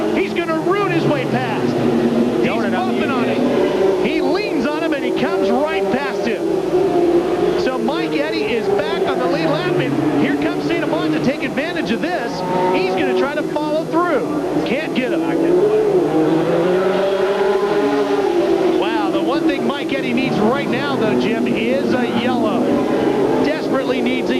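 Stock cars racing on the Tri-City oval at the 1997 ASA Mid-Michigan Chevy Dealers 300, engines droning steadily and rising and falling as the pack circles, under continuous commentary from an announcer throughout.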